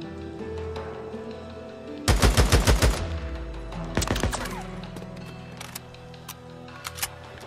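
Gunfire in the video game Days Gone: a sudden, loud rapid burst of about seven shots, then a second shorter volley and a few scattered single shots as the shooting tapers off, with no talk heard.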